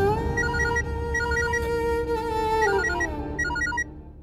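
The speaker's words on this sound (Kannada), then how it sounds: "ಯಾವುದೋ ಲ್ಯಾಂಡ್ ಲೈನ್ ನಂಬರ್, ಖಂಡಿತ ಅವನೇ ಫೋನ್ ಮಾಡಿರ್ಬೇಕು ಅನ್ಸುತ್ತೆ" A telephone rings for an incoming call from a landline number, giving a repeating electronic tone pattern over a continuous musical background, with no talking.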